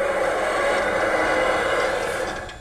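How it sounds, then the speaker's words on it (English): Locomotive engine sound played through an amplified sound system from Phoenix; a loud, steady rushing rumble that holds evenly and then eases off slightly at the end, with no speech. "That's the sound of the locomotive amplifier sound system from Phoenix."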